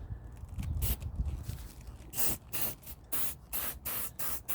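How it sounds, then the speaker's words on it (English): Silicone spray is applied to car window rubber seals in short hissing bursts. A softer first spray is followed by a rhythmic run of crisp, close bursts separated by brief pauses, with no talking. "So we're just going to spray"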